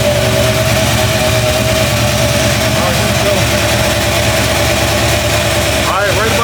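A 1980 Chevy Caprice engine running right after its first start, a loud steady idle with a rumbling low tone, closely recorded, with brief vocal sounds near the end.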